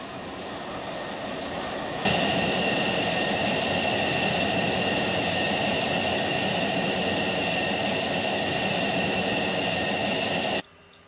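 An F-16 fighter jet engine while taxiing, a loud continuous roar that steps up sharply after a couple of seconds and holds steady before cutting off abruptly near the end, with no voices.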